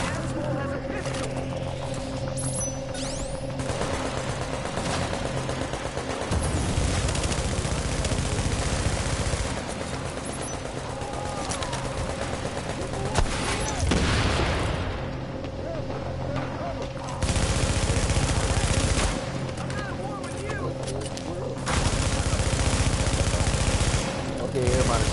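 Rapid pistol and gunfire bursts from a multiplayer video game crackle in clusters across the stretch, mixed with engine-like game noise and voices talking over the action.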